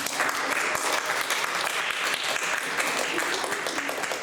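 A church congregation breaks into steady applause, dense continuous clapping at even loudness throughout with no break, filling the room from start to finish.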